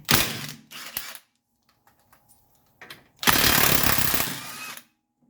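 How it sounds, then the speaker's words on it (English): Power tool, such as an impact wrench, loosening rear shock bolts on a 1985 Mercedes 300CD, two loud bursts of whirring, the second longer, separated by a short quiet pause with small clicks. "here are the 2 bolts that we need to loosen to get those shocks out"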